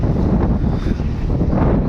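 Wind roars steadily across the open deck of a Cordelia cruise ship at sea, a loud continuous buffeting rush with no pauses and no voices.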